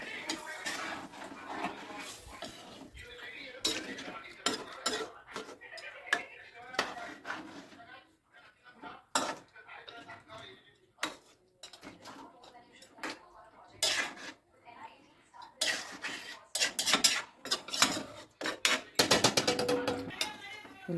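Fish curry being stirred in a pot, with repeated clattering scrapes and knocks of a spoon against metal, close and irregular, while a person talks intermittently.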